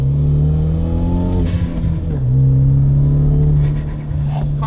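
A Hyundai Genesis Coupe 2.0T R-Spec revs hard in first gear, its engine note rising steadily, dipping briefly at a shift point, then climbing again, loud and close with no talk.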